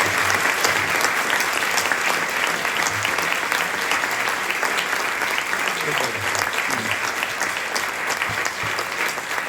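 Lecture audience applauding steadily after an astronomy talk about satellites and observation, dense sustained clapping throughout, loud and even from start to finish.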